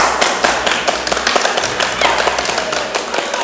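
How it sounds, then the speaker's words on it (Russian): Dense, lively applause from a small group of girls cheering the winner of a 'Goddess of Shopping' contest at Hype House, with rapid claps running steadily throughout and a few voices mixed in. "Аплодисменты!"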